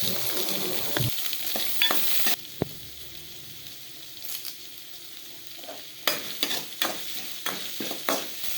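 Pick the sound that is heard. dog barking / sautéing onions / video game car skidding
sautéing onions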